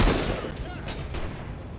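Gunfire in the World War II shooter Rising Storm: a sharp, loud report at the start, then dense, continuous battlefield shooting with scattered bursts and distant booms layered together.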